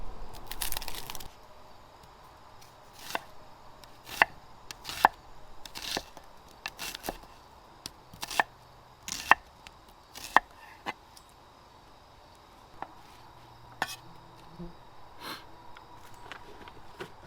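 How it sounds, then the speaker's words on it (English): A knife slices an onion into long pieces outdoors beside an open cooking fire: quiet, irregular crisp chops and crunches, some in quick clusters, over a faint background hush. "So we're simply going to cut up an onion and leave it nice and long."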